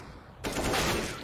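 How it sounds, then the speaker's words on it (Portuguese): Rapid automatic gunfire from Counter-Strike: Global Offensive erupts suddenly in a pro match at IEM Dallas 2022, a dense sustained burst of shots following a quiet moment. "Aí, o Cisto errou o tiro nele ainda."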